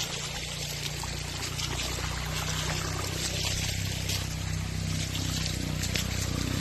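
Floodwater pouring and trickling steadily through a flooded rural province, a constant close rush of water with a low engine-like hum underneath, no talk over it.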